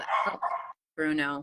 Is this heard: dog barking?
yes